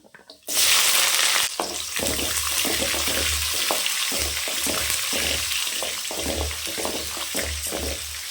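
Mustard seeds, urad dal and onion hit hot oil with a loud burst, then fry in a steady, close sizzle with faint crackles throughout.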